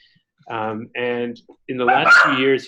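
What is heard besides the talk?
dog barking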